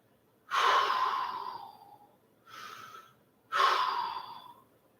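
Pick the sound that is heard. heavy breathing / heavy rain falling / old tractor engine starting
heavy breathing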